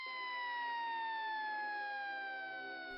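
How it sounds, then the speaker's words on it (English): Police sirens wail steadily in the streets of New York as officers cordon off an area, a loud, continuous siren tone slowly falling in pitch with no talk over it. "The NYPD springs into action, sirens wailing as they cordon off the area."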